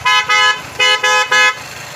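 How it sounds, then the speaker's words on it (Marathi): An aftermarket vehicle horn sold at an auto accessories wholesale shop sounds four short, loud, bright honks in an uneven rhythm, close to the microphone. "त्यानंतर या हॉर्न"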